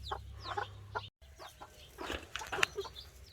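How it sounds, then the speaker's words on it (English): Two Barred Rock chickens cluck and chatter close by in a short burst of soft, irregular calls, with a faint low hum underneath. "And then these are our 2 Barred Rock chickens."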